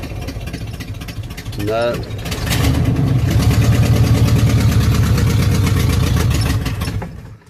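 A car engine sputters, then settles into a loud, steady rumbling idle with a rapid chugging pulse that runs for several seconds before cutting out, with a voice briefly heard.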